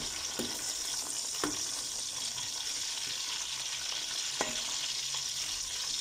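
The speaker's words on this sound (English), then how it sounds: "Just fry up nicely. Give it a stir. Just keep moving it around." Food sizzles quietly in a pan while being stirred, a steady frying hiss broken by a few sharp clicks of the utensil against the pan.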